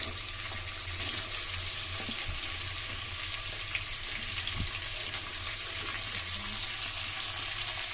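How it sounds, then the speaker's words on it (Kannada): Finely chopped onions go into hot oil in a pan and fry with a continuous broadband sizzle, with a few soft knocks and scrapes underneath, while a cook prepares a Karnataka-style avarekalu upittu. "ಈಗ ಈರುಳ್ಳಿನ 3 ಸಣ್ಣದಾಗಿ ಹೆಚ್ಚಿರುವಂಥದ್ದು ಅದನ್ನು ಕೂಡ ಹಾಕೋತಾ ಇದ್ದೀನಿ"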